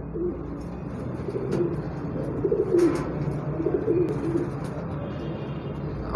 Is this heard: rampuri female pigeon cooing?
yes